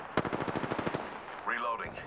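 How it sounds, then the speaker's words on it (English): Video game gunfire rattles off in a quick automatic burst of about a dozen sharp shots, followed by a brief voice line. "The enemies are shooting at me."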